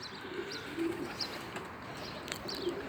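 Faint, soft cooing of pigeons kept by a hobbyist, a few low repeated coos over steady background hiss, with occasional light chirps.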